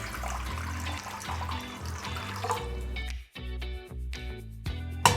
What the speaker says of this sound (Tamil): பாத்திரத்தில் தண்ணி ஊற்றி மூடி வச்சுக்கோங்க.